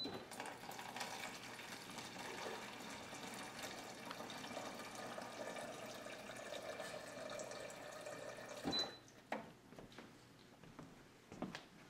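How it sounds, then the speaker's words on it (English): A refrigerator door water dispenser pours one cup of water in a steady, close trickle for about nine seconds, then stops, followed by a few sharp handling clicks and knocks. "our water comes from the refrigerator. So I come over to the refrigerator and I dial in 1 cup of water"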